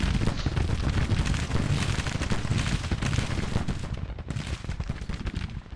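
Dense, continuous volleys of musket and rifle fire mixed with booming cannon roll through a large Civil War battle in the Grand Tactician strategy game, loud and unbroken across the whole stretch with no talking.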